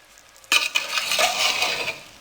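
Vegetable pulao being dished out of a cooking pot, with a sudden start followed by a couple of seconds of scraping and stirring clinks from a metal spoon, close and fairly loud.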